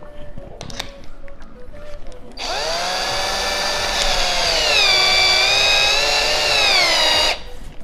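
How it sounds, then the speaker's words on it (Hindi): A cordless driver drill bores a hole, its motor whining loudly and steadily for about five seconds, pitch shifting slightly under load, preceded by a few handling clicks and followed by an abrupt stop. "इसकी मदद से छेद कर सकते हैं कुछ इस तरह से"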